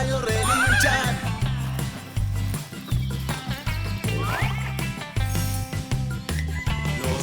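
A horse neighing in a children's song, with repeated whinnies over a bouncy musical backing with a steady bass beat, fairly loud and mixed into the music.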